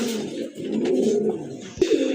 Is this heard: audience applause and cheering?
no